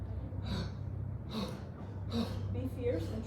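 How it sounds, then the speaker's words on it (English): At a yoga festival class, people do kapalabhati, the shining skull pranayama: a series of sharp, forceful nasal exhalations arrives in a steady rhythm about once a second, close and distinct. "the shining skull pranayama."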